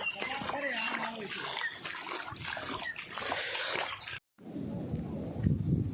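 The Habri river in flood after heavy rain, its water rushing and splashing in a loud continuous wash, closer and rougher at first, then a deeper churning flow after a brief cut.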